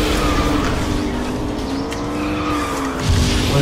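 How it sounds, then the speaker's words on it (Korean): Kart drifting in KartRider with a sustained tire skid and squeal over a steady engine drone, loud and continuous throughout. "그 드리프트 너무 빨라"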